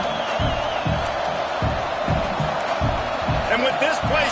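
Dense roar of a packed stadium crowd at a BYU college football game, loud and sustained, with swelling cheers and whoops over a steady wall of noise.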